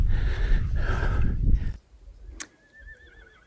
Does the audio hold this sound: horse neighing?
yes